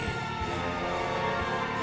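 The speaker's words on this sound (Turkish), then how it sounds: "Sirenleri yakalım, suçluları yakalayalım." A police car siren in GTA 5 wails continuously and loudly on its own, holding steady for the full short stretch with no talk over it.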